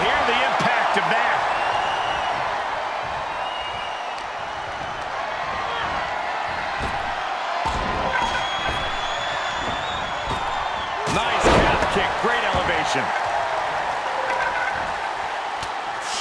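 Body slams and hard impacts in the WWE 2K24 wrestling video game, sharp thuds scattered over a continuous arena crowd roar, with a louder slam near the end and a commentator talking over it.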